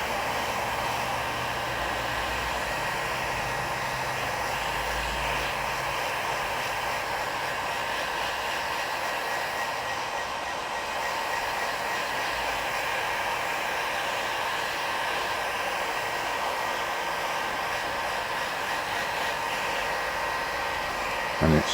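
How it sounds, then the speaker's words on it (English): A heat gun roars steadily while warming a Red Paddle accessory mount on a paddle board, giving a loud, continuous blowing hiss up close that barely changes throughout. "Hope you can hear me over the top of the heat gun."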